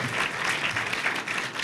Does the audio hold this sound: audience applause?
yes